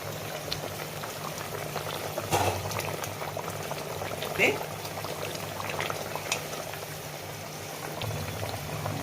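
A Padma hilsa fish curry with eggplant and slit green chilies bubbles at a steady boil in a pot. A soft, continuous simmer sounds close by, with a few brief clinks and sharper bubbles.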